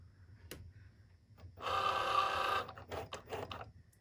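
A small Cricut Joy cutting machine runs in short whirring bursts, first a sustained motor buzz for about a second and then several shorter pulses, fairly close and clear in a quiet room.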